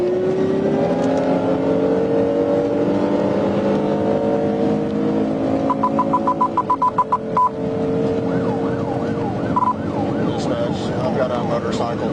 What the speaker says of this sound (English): I've got a motorcycle taking off on me.